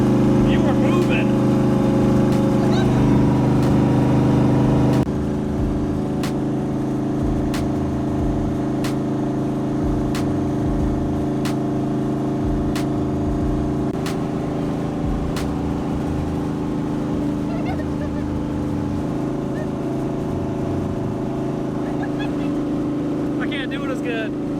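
Twin-turbo Fox Body Mustang running steadily from inside the cabin, with a continuous loud engine drone and regular ticking pulses, and an abrupt shift in tone near the five-second mark, with people talking over it.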